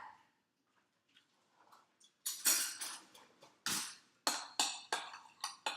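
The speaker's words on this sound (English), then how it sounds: "Stir it up." A utensil stirring Italian or Greek seasoning into a bowl of mashed cauliflower for a pizza crust, with soft scraping followed by a run of louder close clinks and scrapes against the bowl, repeating at a steady pace.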